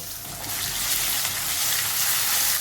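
Tomatoes sauté in a pan with curry leaves, crushed ginger and green chilli, a loud, dense and even sizzle that swells within the first half second and then holds steady, with no voices.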